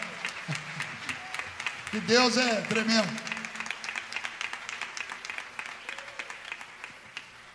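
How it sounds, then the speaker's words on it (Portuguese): Scattered rhythmic clapping from a church congregation during a Sunday service continues beneath a voice speaking and exclaiming over it, with claps falling into a steady beat toward the end. "pode aplaudir mesmo."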